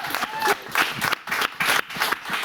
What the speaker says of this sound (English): Can we clap for Catholic sisters?